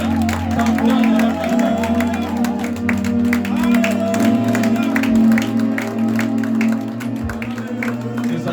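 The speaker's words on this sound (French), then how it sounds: "Nous allons nous tenir debout avec une bonne main d'acclamation pour accueillir l'homme de Dieu" A church congregation stands to clap and cheer in welcome of a preacher, steady applause and acclamation running for several seconds over sustained music and mixed voices.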